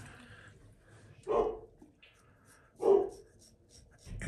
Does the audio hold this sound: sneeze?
no